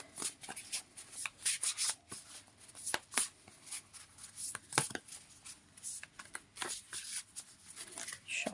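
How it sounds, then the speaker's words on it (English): A deck of tarot cards is shuffled by hand up close, with repeated crisp riffling and slapping bursts in an uneven rhythm, and no voice is heard over the shuffling. "I'm going to shuffle them, then find the death card."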